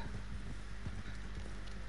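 Horse hooves clip-clop steadily in Red Dead Redemption, an even rapid gait heard close over a dense, constant game soundscape with no pauses.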